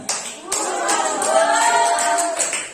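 A classroom of students claps together during an Islamic studies lesson on zakat, with sharp, fairly rhythmic hand claps ringing out close by over a bed of voices.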